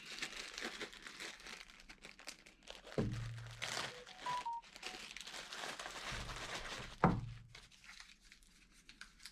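A plastic bag of small parts from a MOPAR serpentine kit being handled, giving quiet crinkling and rustling with a few soft thunks as the contents shift.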